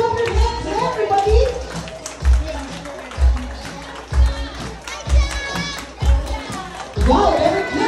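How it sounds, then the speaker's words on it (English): People clapping hands at a birthday party with children present, a rhythmic group clap landing in regular bursts about once a second, with cheering voices and chatter around it. "Clap your hands, everybody."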